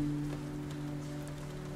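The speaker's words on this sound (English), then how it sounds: "the first drops of the rain gently tapping on the window pane" Raindrops tapping on a window pane of a boathouse room at night, a gentle continuous patter over a low steady hum, quiet and close, with no speech.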